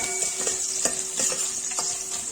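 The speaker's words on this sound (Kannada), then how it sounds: "ನೋಡಿ, ಈಗ ಚೆನ್ನಾಗಿ ಈರುಳ್ಳಿ ಎಲ್ಲ ಫ್ರೈ ಮಾಡ್ಕೋಬೇಕು." Onions frying in oil with curry leaves, a bright steady sizzle broken by a few sharp scraping stirs in the pan, close and clear.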